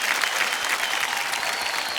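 A studio audience at a television quiz show breaks into loud, dense applause that stays steady for two seconds, close and unbroken, with no talk over it.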